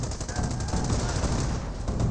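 An airborne infantry squad firing guns in Company of Heroes: dense, continuous rattling gunfire with overlapping bursts, loud and sustained throughout with no pauses.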